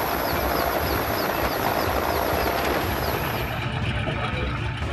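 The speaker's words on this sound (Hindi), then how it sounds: "कुछ मकानों के झुंड के ऊपर सेना का हेलीकॉप्टर दिखाई दे रहा है" An army helicopter hovers over flooded houses in West Bengal's Hooghly district, its loud, steady rotor and engine roar filling the clip before it eases off slightly near the end.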